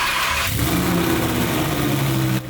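A twin turbo Lamborghini engine runs loudly nearby, rumbling and shifting pitch as it revs, then drops away abruptly at the end.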